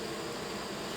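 Honey bees at a hive rescued from a wall give off a steady, close, dense buzz that holds evenly for the whole second, with no other sounds.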